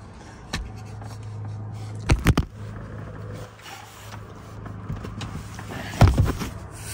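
Plastic clicks and a couple of sharp knocks from the center armrest being folded down inside a 2021 Ford F150 SuperCrew XL cab, with a low steady hum underneath and no talking.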